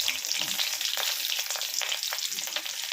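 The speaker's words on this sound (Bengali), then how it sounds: "কাঁচা লঙ্কাও এখানে এরকম চিড়ে নিয়ে দুটো এখন দেবো ফোড়নে" Slit green chilies hit hot oil for tempering, giving a steady, close sizzle and crackle with light stirring scrapes running throughout.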